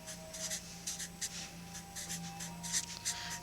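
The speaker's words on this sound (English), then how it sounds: "So I'm going to write his name underneath it." Pen or pencil writing an artist's name on paper in an art class, with a series of short, close scratchy strokes in an uneven rhythm and quiet pauses between them. No voices are heard.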